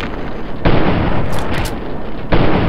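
Loud gunfire bursts from a hunting rifle in the Fallout 3 video game: a sharp blast opens a sustained noisy roar, another heavy blast near the end, close and dominant with no talking.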